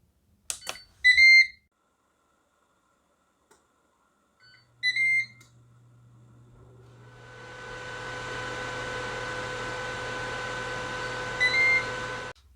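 A Ninja Foodi SmartLid oven baking buttermilk cornbread gives short bursts of electronic timer beeps, two quick sets near the start and a later one, over a steady fan hum and whir that builds and keeps running.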